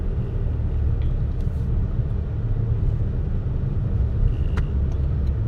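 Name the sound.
car driving in a traffic jam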